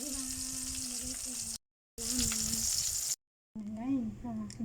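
Bangus (milkfish) fries crisp in a hot pan, a steady close sizzle broken by two short silent gaps, with a voice talking briefly over the last part.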